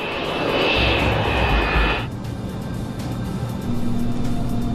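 Engines of a Boeing 727 airliner idling at the runway threshold before takeoff, a steady loud roar with a high whine that suddenly drops to a lower, quieter rumble partway through, with a faint tonal hum rising near the end.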